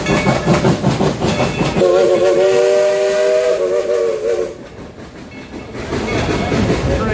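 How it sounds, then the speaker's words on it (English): A steam train passing overhead at Dollywood, Pigeon Forge, Tennessee, rumbles loudly with a sustained steam whistle blast in the middle, the roar briefly easing before building again. "Train just went above us."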